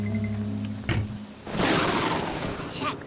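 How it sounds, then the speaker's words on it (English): Heavy rain pours down in a dense, loud hiss with a dull thump or two, steady and close throughout. "It's hard to see with all this rain."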